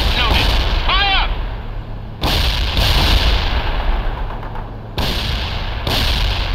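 Repeated loud cannon blasts from a tank firing HEAT rounds in the World in Conflict war game, several sharp booms over a dense battle din, with radio-style voices briefly talking between shots.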